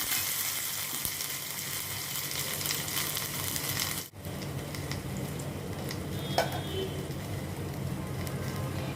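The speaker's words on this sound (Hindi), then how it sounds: "इसमें मैं भी ये काबुली चने डाल रही हूँ।" Boiled chickpeas are added to a hot frying pan and stirred, giving a steady close sizzle with a brief break and a light clink of a utensil against the pan.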